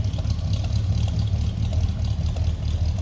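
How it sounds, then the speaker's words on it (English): A 1982 Chevrolet K10 Silverado pickup's V8 engine idles nearby with a deep, steady rumble and a slightly uneven throb, running continuously without revving. "Nice little rumble coming out of that V8."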